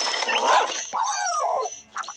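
A tamed Minecraft dog gives a short burst of sharp yelps and whiny, bark-like calls, loud and close, ending with one brief yip after a short pause.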